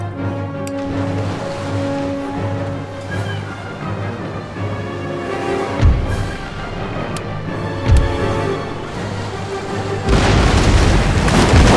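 Cannon fire from warships in the naval battle game Empire: Total War, several heavy booms around six, eight and ten seconds over a constant low rumble of sea and battle ambience.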